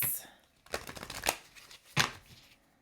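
Tarot cards from a love and romance deck being shuffled by hand, giving a few quick riffling bursts of card flutter close by, with a short pause between them and a soft voice briefly at the start.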